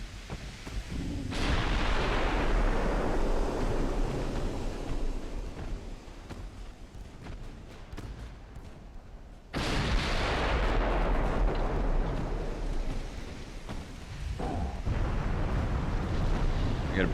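Battleship broadsides in the naval game Ultimate Admiral: Dreadnoughts, firing super heavy shells: two huge booming salvos a few seconds apart, each followed by a long rumbling roar that slowly fades.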